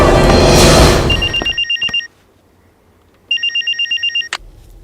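A telephone rings in two bursts of rapid electronic trills, loud and close, separated by a quiet pause, after a short burst of noise at the start.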